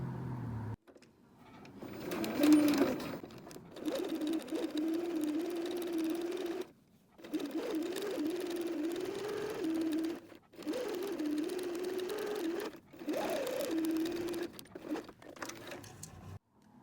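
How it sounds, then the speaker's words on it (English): A sewing machine stitches a quarter-inch seam around a fabric circle for a pincushion, running in a steady mechanical hum in several long bursts separated by short pauses, with no voices. "We're going to go sew all the way around the circle, but leaving the no-sew zone open for turning and for stuffing."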